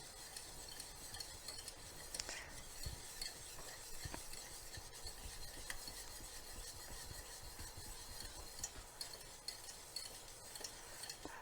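A whisk works hollandaise sauce in a pot, scraping into the corners with a soft, continuous metallic stirring and light clinks, faint and close with no talking.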